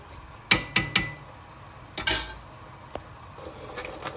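Metal spoon clinking against a pot while rice is stirred in water for chicken biryani, several sharp knocks early then scattered lighter taps, close and moderately loud with no talk.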